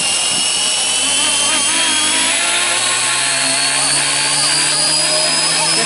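Small Blade mCP X BL RC helicopter flying on its first flight, with a slight tail wag: a loud, continuous high-pitched whine from motors and rotor, close and steady throughout.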